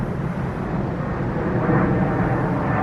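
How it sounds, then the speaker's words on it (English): An airplane flies over a cemetery in St. Louis, a steady, broad engine roar that fills the whole clip at a constant moderate level, swelling slightly toward the end with no talking. "especially as the airplane flies over"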